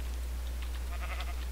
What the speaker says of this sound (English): Now if I walk up to one of these sheep and shear it